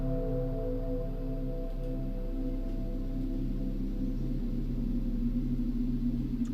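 A quiet, steady synthesizer wash: soft sustained chord tones blended with a grainy, hissing noise texture that drifts evenly throughout.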